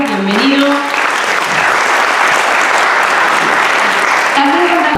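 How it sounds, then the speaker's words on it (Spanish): A lecture audience gives a loud, continuous round of applause to welcome a speaker, dense clapping that holds steady for about five seconds with a brief voice at the start and end. "Un fuerte aplauso para Matías, bienvenido."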